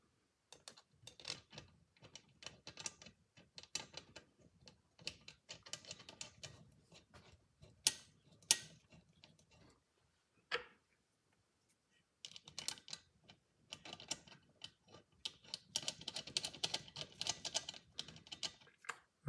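Bolts being tightened on a 13 millimeter turbo oil drain fitting of a MK7 GTI during a Mamba GTX3071R install; close, repeated ratcheting clicks come in bursts, pause, then resume.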